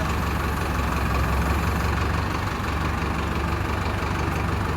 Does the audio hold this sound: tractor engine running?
yes